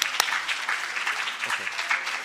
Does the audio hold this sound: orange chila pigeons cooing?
no